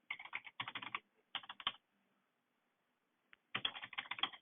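Someone types on a computer keyboard nearby in quick bursts of rapid, crisp key clicks, broken by short pauses and a longer silence before a final flurry.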